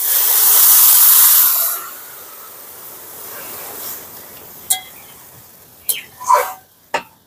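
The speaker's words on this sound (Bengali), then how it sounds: "এবারে জল দিয়ে দিচ্ছি।" Water poured into a hot pan of mung dal and sweet potato bursts into a loud, close sizzling hiss for under two seconds, then fades to a low simmer with a few sharp clinks near the end.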